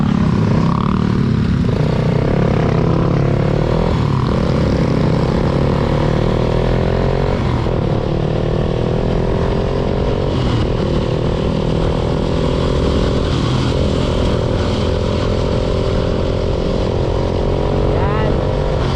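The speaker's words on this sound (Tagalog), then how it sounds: "Nagigigil na yung mga throttle nyo." Several motorcycles sit idling on a road in Atimonan, Quezon, with riders blipping their throttles in repeated short revs over a constant engine drone; people talk nearby.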